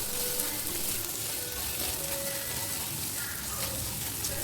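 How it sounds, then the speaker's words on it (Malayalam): Onions sauté in a pan for a Kerala soya chunks thoran, giving a steady, close sizzle and crackle of frying that holds at an even level throughout, with no voices. "ഉള്ളി ഒന്ന് ട്രാൻസ്ലൂസൻ്റ് ആയി വരുന്നത് വരെ വഴറ്റി കൊടുക്കുക."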